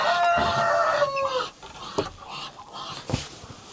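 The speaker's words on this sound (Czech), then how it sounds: "Teď tady kačeny a 2 slepice" Hens cluck and a rooster-like crow rings out up close, followed by a few scattered squawks and duck calls in a quiet yard during morning feeding.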